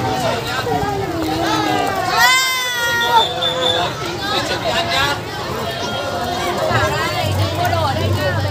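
A crowd of children chatter, shout and squeal all at once, a busy lively hubbub with one high excited cry rising above it.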